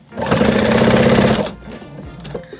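A sewing machine sews a donut-shaped dog toy, a loud, close, steady mechanical buzz of rapid stitching that runs for just over a second before stopping, leaving softer handling noises.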